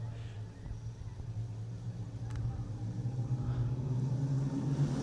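Wingless sprint cars racing at Lismore Speedway, a low continuous engine rumble and drone from the pack that builds slightly louder as the cars get under way, with a faint voice in the background.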